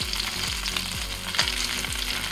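Pork liver pieces frying in a pan, a steady dense sizzle with crackling spits throughout, close and continuous, with faint repeated low thumps underneath.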